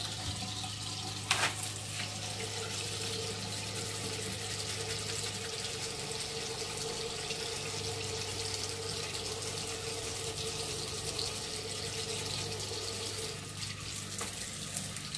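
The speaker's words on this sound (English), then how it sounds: "So it's just a waste letting that water keep running and running and running." Water runs steadily from a tap during a stenciling project for a DIY mouse pad, a constant soft hiss and splash that continues for about fifteen seconds with a brief clatter near the start.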